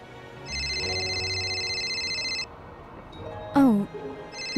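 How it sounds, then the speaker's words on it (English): A cell phone rings with a steady electronic tone for about two seconds, then stops; a voice speaks shortly after, and the ring briefly starts again at the very end. "Oh, my phone is ringing."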